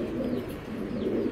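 A racing pigeon imported from China in 2016 gives a soft, low, rolling coo, close by and steady, over roughly a second.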